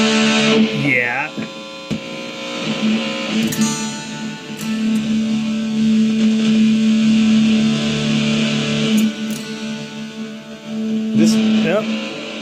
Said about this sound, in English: You couldn't wire up 14 fuzz pedals in series.